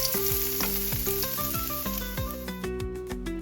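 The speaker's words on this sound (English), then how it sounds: "heating some oil in a pan and stir frying chopped garlic and onions until translucent" Chopped garlic and onions stir-fry in hot oil in a pan until translucent, giving a continuous close sizzle under steady background music.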